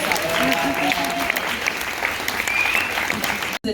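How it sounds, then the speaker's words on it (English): An audience applauds a muralist and artists at a school-community event with steady, loud, sustained clapping that cuts off abruptly at the end. Faint tonal traces run beneath the clapping. "So please give them a round of applause."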